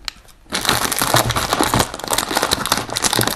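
Plastic packaging on a Moyu puzzle cube box being cut open with scissors, a loud, dense run of crinkling and crunching plastic that starts abruptly after a short quiet moment and continues steadily without any talk.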